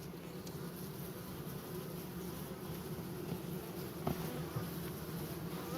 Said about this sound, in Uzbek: Mana arimiz.